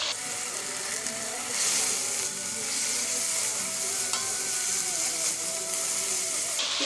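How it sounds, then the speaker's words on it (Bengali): Boneless chicken stir-fried in a pan over a high flame for a chicken vegetable fried rice, giving a steady, loud sizzle with frequent scraping stir strokes throughout, with no talk. "চিকেনটা আমি 5 মিনিট ভেজে নেব।"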